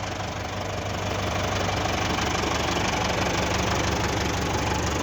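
A tractor engine idles close by with a constant loud, knocking diesel rumble that stays even and unbroken throughout.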